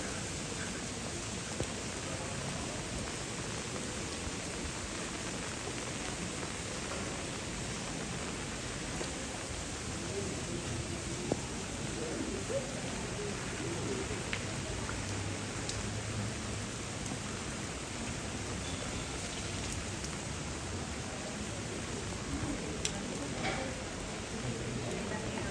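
Steady rain falls across the historic center of Genoa, an even, soft hiss of drops on pavement and surfaces that continues unbroken at low volume throughout, with no talk.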